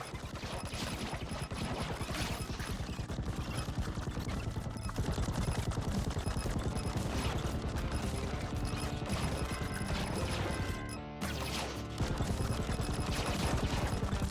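Sustained rapid gunfire from the video game Mercenary Battle Company, dense and continuous over a steady game soundtrack, with a brief dip near the end before the shooting resumes at full loudness.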